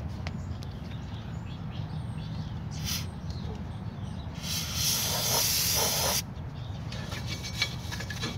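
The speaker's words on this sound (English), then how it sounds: "if you got an air compressor, just blow everything off real quick" Compressed air blows off the rear brake parts of a convertible PT Cruiser, giving a faint hissing backdrop with a few short bursts and one longer, louder blast of air.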